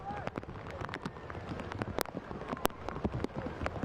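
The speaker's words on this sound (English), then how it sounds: "The rain blanketing Richmond, Virginia" Steady rain falls over a soccer stadium in Richmond, Virginia during a USL Cup match, a faint patter with scattered crackling drops beneath distant voices.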